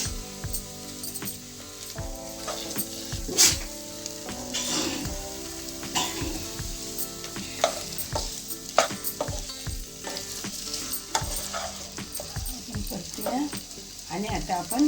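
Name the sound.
boiled potatoes being sautéed in a pan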